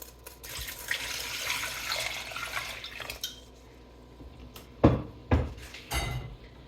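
Water runs and splashes into a metal pot holding parboiled garden eggs, followed by a few sharp clanks of dishes being handled nearby.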